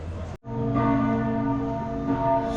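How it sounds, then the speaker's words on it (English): Cathedral bells ring near a hostel in Zemun, Belgrade, a rich, sustained toll with layered overtones. It starts after a brief gap and carries on loud and resonant. "if you stay in this hostel near the cathedral, the bells chime really regularly"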